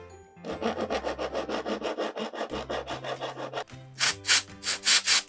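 Rhythmic rasping strokes of a file shaping the face of a metal axle part for a model car, about a dozen steady back-and-forth passes close up, then a few sharper, brighter strokes, with no talking.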